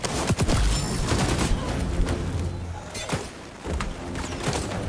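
Rapid bursts of automatic gunfire from the shooter video game xDefiant, loud sharp volleys clustered near the start and scattered single shots after, with a player's voice occasionally over the action.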